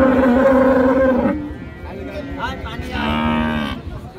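A cow at a Friesian cattle market in Raniganj, Dinajpur gives a loud, close, drawn-out moo, followed by a second, rougher moo, with crowd noise underneath.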